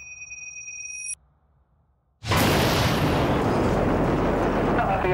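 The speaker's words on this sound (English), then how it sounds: "I presume you heard that loud explosion right next to you?" After a brief near-silence, a sudden massive blast erupts and its loud, roaring noise sustains without letting up to the end.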